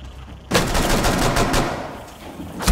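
In the video game Rainbow Six Siege, a sudden loud burst of rapid gunfire erupts after a quiet moment and rattles on as dense automatic shooting, close and continuous for about two seconds.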